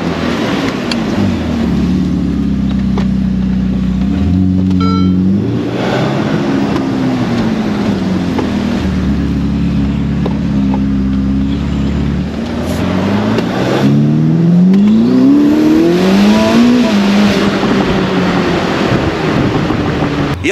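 A car engine revs loudly and close, its pitch climbing and falling in repeated sweeps with a steady deep rumble underneath, and no voices are heard.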